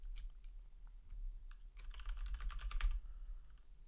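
Keys clatter on a computer keyboard as a command is typed into the Space Quest III adventure game, a quick run of close taps that thickens into a dense burst toward the end, with no talking.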